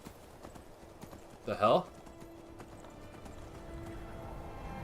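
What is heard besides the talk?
horse hooves and neighing in the video game Skyrim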